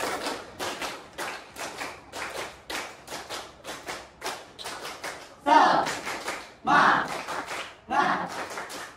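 A group claps together in rhythmic bursts of three, four and five quick claps, with short pauses between sets, the last few bursts louder, and voices counting along in Indonesian.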